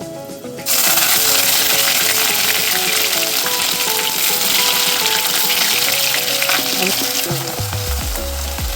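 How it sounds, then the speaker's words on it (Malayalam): Crushed ginger and garlic dropped into hot oil with fenugreek seeds for a prawn pickle burst into a loud, close, continuous sizzle that starts abruptly and holds steady, with faint scraping near the end. "ഉലുവ ചൂടായതിനു ശേഷം നമുക്ക് ഒരു കഷ്ണം ഇഞ്ചിയും പത്തല്ലി വെളുത്തുള്ളി ചതച്ചതും ഇട്ട് കൊടുക്കാം"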